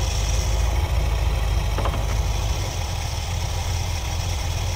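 A 1973 Ford Econoline with an Edelbrock carburetor idling at around 800 RPM, a steady low engine rumble with constant vibration heard close up and without talk.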